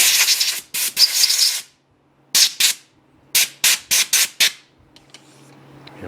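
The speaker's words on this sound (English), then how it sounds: "Give it a little spritz of air." Compressed air blows off a freshly machined cylinder head for a five-cylinder radial engine: one long, loud hissing blast, then several short sharp spurts in quick succession, close up, with quiet in between.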